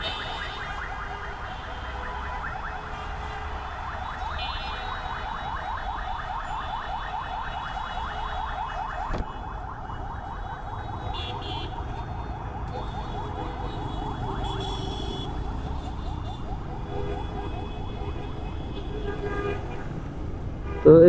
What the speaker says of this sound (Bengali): জ্যামের যে অবস্থা,